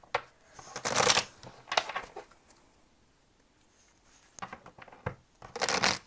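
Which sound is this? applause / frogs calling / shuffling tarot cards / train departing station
shuffling tarot cards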